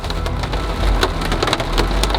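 Rain falls steadily on an overland trail in Georgia, a dense crackling patter with sharp drips and taps on nearby surfaces, close and fairly loud with no voices.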